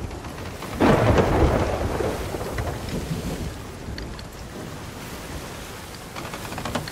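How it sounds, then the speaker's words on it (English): Thunder rolls through a stormy sea in the pirate game Sea of Thieves, a loud crash near the start giving way to steady heavy rain and a continuous low rumble, with no talk. "Right, I'm back in the storm."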